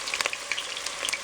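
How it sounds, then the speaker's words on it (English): Onion frying in hot oil sizzles and crackles steadily with sharp pops and spatters scattered throughout, close up, with no talking. "So I'm going to go ahead and add onion."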